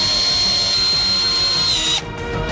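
A power drill driving screws into a large glued pipe form for a giant chocolate bar mold, a steady close whine that stops abruptly near the end.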